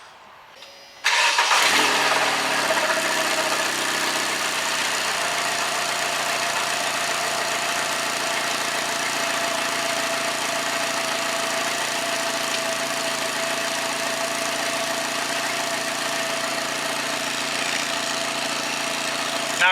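A Seat Cordoba with a newly fitted exhaust cranks and fires after a moment of quiet, then settles into a steady, close idle that runs on evenly.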